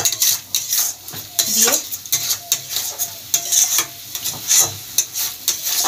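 A spoon scrapes and clinks against a pan as cashew and melon-seed paste is stirred into a catla fish curry, with a soft sizzle underneath and a brief spoken word.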